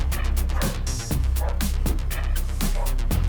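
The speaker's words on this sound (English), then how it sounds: "the dog is back" A dog barks in quick, loud, repeated yaps close by, a steady run of sharp bursts with barely a pause between them.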